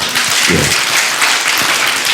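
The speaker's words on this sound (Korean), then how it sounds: "박수 쳐줘봐요" Congregation applause during a church worship service, a loud, steady burst of clapping filling the short span with no speech over it.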